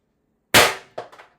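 A Beeman BP50 carbine CO2 air rifle with a 16-inch barrel and an HD24 suppressor with an expansion mod fires a single sharp, loud shot at close range. A quick metallic clatter follows, with two short echoing knocks.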